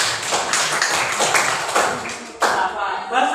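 A class of children applauds in a steady, close burst of clapping that lasts a few seconds, with a brief voice over it.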